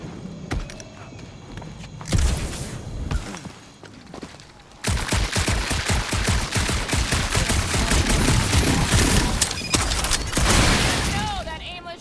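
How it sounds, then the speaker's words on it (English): Rapid bursts of gunfire from Marvel's Guardians of the Galaxy, set on a dark monster-infested planet, rattle through a dense, loud battle soundscape. Sporadic shots come first, then sustained volleys after a brief lull, with voices talking over parts of it. "that aimless shooting isn't gonna scare the monsters away"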